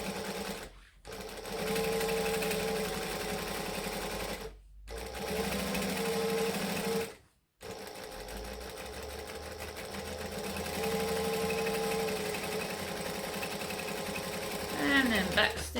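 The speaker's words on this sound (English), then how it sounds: "So now we can sew these lines." A sewing machine stitches a laptop sleeve, running in a steady close whir with three brief stops before it resumes, ending in a short faster burst; a voice talks quietly in places.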